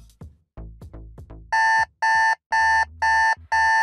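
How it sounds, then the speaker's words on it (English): Alarm clock in the Roblox game Brookhaven rings in five loud, evenly spaced electronic beeps after a few soft earlier tones, each beep a steady bright tone with strong harmonics. "It is not morning yet. It is not morning, alarm clock."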